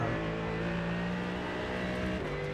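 Car at full throttle on the Canadian Tire Motorsport Park race track, a loud sustained engine drone heard from inside the car, with a quick shift and pitch change near the end.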